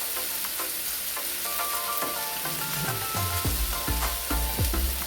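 Okra omelet sizzles and fries steadily in a pan while a utensil scrapes and stirs it in repeated close strokes, the hiss continuous beneath the clatter.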